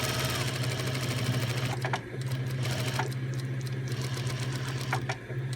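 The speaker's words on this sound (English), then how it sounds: "again 1 stitch over the edge and back tack, and do that on the other side as well" A sewing machine stitches and back-tacks over a fabric edge while making a bag, giving a loud, steady close-up hum with brief pauses and sharp clicks as the stitching direction reverses.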